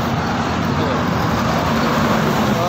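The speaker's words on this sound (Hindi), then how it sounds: "भाई साहब काफ़ी तेज बाइक आ रही है यहाँ से" Road traffic roars steadily at close range, a motorbike speeding toward the listener as a rising engine note over the broad rumble of passing vehicles.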